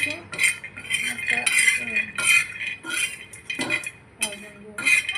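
A spoon stirs and scrapes ladoo ingredients as they roast in a pan over low gas, giving repeated close metallic clinks and scrapes in an uneven rhythm.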